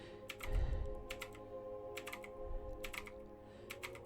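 Mechanical keyboard being tapped in quick clusters of crisp, near clicks, often in pairs, with a low thump early on and a steady background hum.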